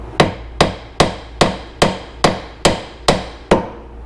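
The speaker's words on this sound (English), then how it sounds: "I've got a little 2-pound hammer here. I'm just going to give it a little tap" Nine sharp metallic taps of a 2-pound hammer on a Jeep Liberty control arm joint at an even, steady pace, each ringing briefly before the next strike, close and fairly loud with no talking.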